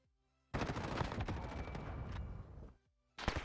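SMG and pistol gunfire in Call of Duty Modern Warfare, a loud dense burst of rapid shots lasting about two seconds, then silence, then a new volley beginning, with no talk.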